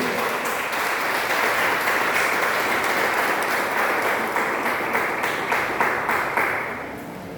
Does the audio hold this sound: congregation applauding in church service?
yes